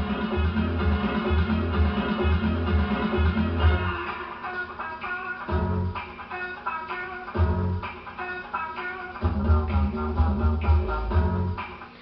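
A house music record plays for DJ mixing, opening with an 8-beat introduction before the first phrase begins, with a steady thumping four-on-the-floor kick that drops out briefly and returns, and no talking.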